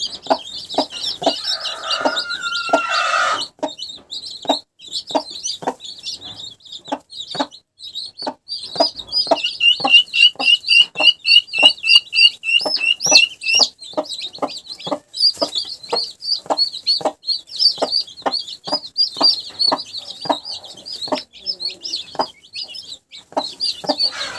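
Broody hen clucking steadily among chicks and guinea fowl keets, with a rapid run of soft clucks in the middle and high peeping chicks throughout; close and clear, with a brief scuffle near the start.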